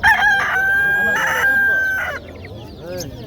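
A rooster crows loudly and close at a busy poultry market, one long drawn-out call followed by softer clucking and faint market murmur.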